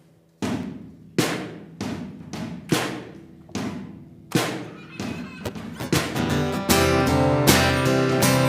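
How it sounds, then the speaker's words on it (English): A church congregation claps along to a song: sharp, evenly spaced claps ring out alone at first, then merge into fuller music with singing as the band comes in. "let's work on clapping together on this one"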